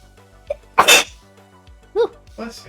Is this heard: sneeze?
yes